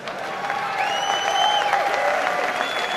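A comedy show audience applauds in a steady wash of clapping that runs the full length, with some whistles and whoops rising over it.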